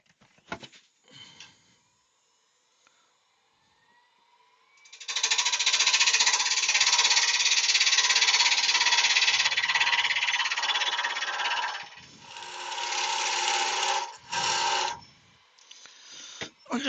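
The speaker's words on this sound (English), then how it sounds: "So we'll get the big parting chisel." A big parting chisel cuts larch wood spinning on a lathe, giving a loud sustained scraping roar for several seconds, then shorter bursts, with quiet handling sounds before it.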